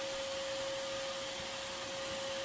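A vacuum steadily sucks yellow jacket wasps off a large nest in a crawlspace, a continuous airy hiss with a fixed whine, close and unbroken, with no talking.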